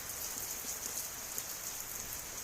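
Heavy rain falls before the wheat harvest, a dense, steady hiss of drops on surfaces that stays even and fairly quiet throughout, with no voices.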